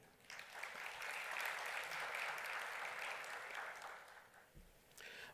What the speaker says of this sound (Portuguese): vamos receber com uma salva de palmas o doutor Alexandre Ateniense